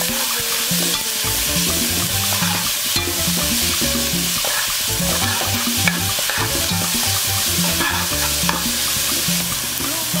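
Garlic being stirred and mixed in a pot while cooking a Puerto Rican Sunday dinner, a steady scraping stir over continuous loud frying sizzle, with music-like tonal layers underneath throughout.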